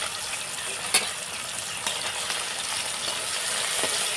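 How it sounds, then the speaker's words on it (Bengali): Fish frying in a pan at home, a constant hissing sizzle with a few sharp pops and spatters breaking through at intervals. "মাছ ভাজা হচ্ছে এদিকে"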